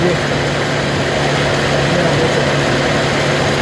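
A petrol engine with a carburetor idles steadily while its air-fuel mixture is adjusted, giving a continuous close hum with a low even drone and no change in pitch. Speech is likely present.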